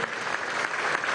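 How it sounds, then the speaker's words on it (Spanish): A brief burst of dense, steady applause from an audience honouring the Venezuelan armed forces at a year-end military ceremony at the Ministry of Defense. "pido también un aplauso de reconocimiento humilde"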